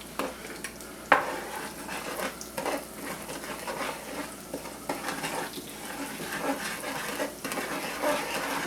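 Spices, including smoked paprika and red pepper, are stirred into chicken wings cooking in a pan. Steady sizzling frying noise sits under scraping and stirring strokes, with a sharper knock or two from the utensil against the pan.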